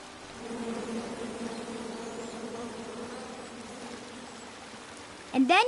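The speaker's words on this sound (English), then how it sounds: "Come at me, bees!" A swarm of angry bees drones steadily in King's Quest, a continuous buzzing hum that holds for several seconds before a brief sharper sound cuts in at the end.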